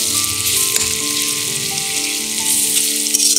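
Sliced onion frying steadily in hot oil in a pan, a continuous close, dense sizzle with no voices, holding an even level throughout.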